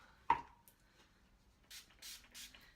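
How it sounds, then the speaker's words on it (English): A sharp tap near the start, then three quick hissing bursts of makeup setting spray in a row, close and fairly quiet. "I am gonna spray some of my setting spray on it"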